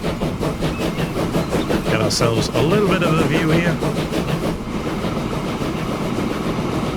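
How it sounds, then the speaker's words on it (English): A freight train in Transport Fever 2 rumbles steadily along the track, with rhythmic clacking and mechanical rolling noise throughout, while someone talks over it. "that train is now going to head back"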